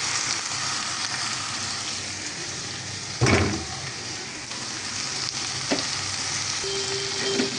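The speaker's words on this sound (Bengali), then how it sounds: "তেলটা খুব ভালোভাবে গরম করে এবার করলাগুলো দিয়ে দিলাম।" Bitter gourd pieces sizzle steadily in well-heated oil, a dense, close crackling hiss that runs throughout, with a sharper stir or clatter near the middle and a brief tonal ring toward the end.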